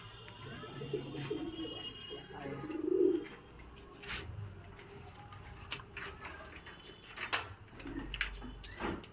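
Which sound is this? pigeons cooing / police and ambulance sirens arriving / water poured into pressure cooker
pigeons cooing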